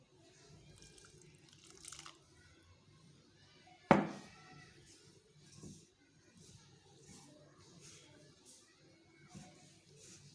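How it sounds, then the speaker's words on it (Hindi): Water goes into a bowl of semolina, flour and salt for golgappa dough, with one loud splash followed by soft sloshing and mixing sounds and faint kitchen movements. "और फिर इसमें पानी डालकर इसको गूंद लेंगे।"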